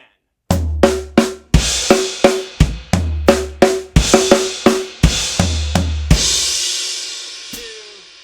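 Slow drum pattern on a kit with no rack toms, sixteenth-note strokes and kick hits in an even repeating groove, with a left-hand accent off a crash cymbal that washes out and rings at the end, close and loud, no talking.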